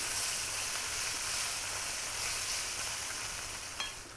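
Pork cracklings fry in a pan with a steady, soft, even sizzle and hiss close by, with a single faint pop near the end.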